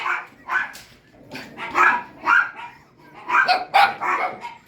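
Several puppies yapping and barking in quick overlapping bursts, high-pitched and close, with short whimpery yips mixed in.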